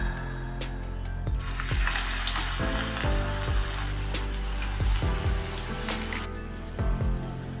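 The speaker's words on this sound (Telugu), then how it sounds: "వేగుతూ ఉందండి." Pakodi deep frying in hot oil, a loud dense bubbling sizzle running throughout, close up, with occasional soft clinks and no voices.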